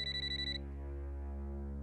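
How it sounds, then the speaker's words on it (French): A phone ringtone chimes with a quick run of bright electronic beeps that stops after about half a second, leaving a steady low background hum in an indoor scene. "C'est ma sonnerie."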